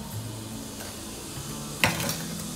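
Cumin seeds in ghee and oil in a kadhai, cooking for a lauki kofta curry gravy, give a soft, steady sizzle with a brief metallic clink partway through and no voices.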